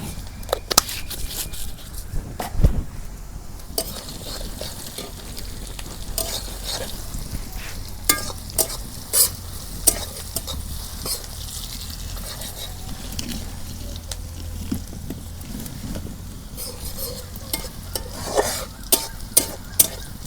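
Cumin seeds sizzle and crackle in hot oil for a chicken curry while a spoon scrapes and stirs the pan, with steady frying noise punctuated by sharp knocks and clinks throughout.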